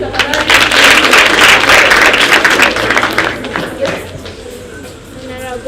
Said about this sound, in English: Clap here